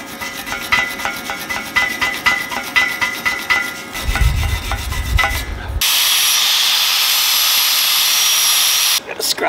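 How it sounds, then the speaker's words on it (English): Wire brush scrubbing steel pallet forks ahead of welding: loud rhythmic rasping strokes, followed by a steady bright hiss of a powered brush or grinder running continuously for several seconds, close to the microphone. "I wish I wire brushed everything before I did all this."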